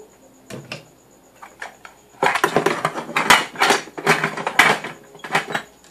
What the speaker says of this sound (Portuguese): Guardo esses pratos aqui.